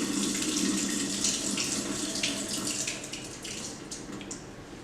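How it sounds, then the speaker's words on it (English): Brown water left over from making almond milk is poured away into a sink, a steady, close splashing rush that gradually tapers off. "throw away the brown water."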